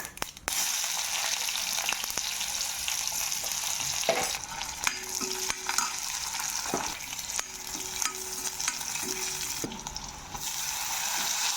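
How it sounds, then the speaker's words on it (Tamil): Hot oil sizzling and crackling steadily as chana dal and urad dal fry for sambar tempering, with occasional clinks and scrapes of stirring. "இப்போ எண்ணெய் போட்டுக்கலாம் சாம்பார் தாளிக்கிறதுக்கு"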